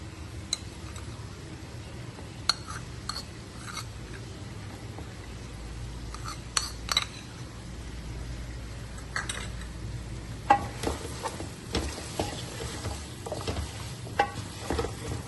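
Meat frying in a pot with onions and a prepared spice paste, a steady close sizzle with scattered stirring scrapes and light clinks of a spoon against the pot, no voices.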